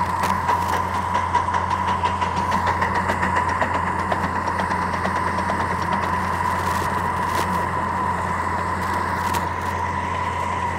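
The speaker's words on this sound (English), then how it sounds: "You might hear that little rumbling in the background. That's the air compressor running." Muffled air compressor for air brakes rumbling steadily on a steam locomotive, a continuous low mechanical drone with faint ticking, constant in level throughout.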